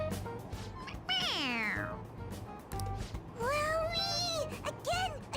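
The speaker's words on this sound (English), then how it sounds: "It meows when you press on its head." A stuffed toy cat in the Persona 5 Royal video game meows when its head is pressed: two clear, drawn-out electronic meows, the second longer and wavering, over low background game sound.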